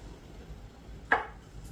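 A single short knife chop through soft tofu, crisp and close, with a quiet room behind it.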